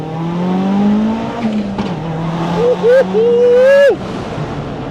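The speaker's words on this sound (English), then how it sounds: "Oh, little backfires. One more send." A 550 hp 3SGTE-powered Toyota RAV4 revs loudly up close, its engine note climbing in rising bursts with little crackling backfires, while people talk nearby.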